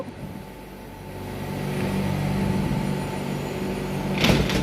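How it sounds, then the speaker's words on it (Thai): A heavy automatic door on an Airport Rail Link train: a low carriage rumble swells, then a single sharp clunk near the end as the door shuts, with no talking. "เสียงปิดประตูนี่แบบ ระบบอัตโนมัติมากนะคะทุกคนเสียงจะดังหน่อย เพราะว่าเป็นประตูค่อนข้างหนัก"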